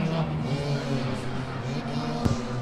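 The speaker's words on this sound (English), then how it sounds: "we're hearing a car rev up" A Lola race car's engine hums steadily on a circuit during an enduro race day at Killarney, a sustained mid-distance drone with a brief sharp spike near the end.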